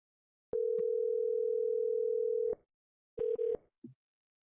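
A telephone call being placed gives a steady two-second tone, then a short pause and a couple of brief clipped beeps, clear and alone with no voices.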